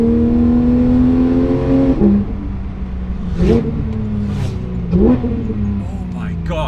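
Porsche 911 GT3 RS engine revs hard and loud up close, rising and dropping in three or four sharp surges with brief shift-like blips, as an excited voice talks over it.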